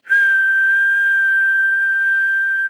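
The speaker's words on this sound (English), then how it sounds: "I was trying to whistle a G over there" A single clean, steady whistled tone held for about two and a half seconds, aimed at a G note for a tuner; close, loud and alone.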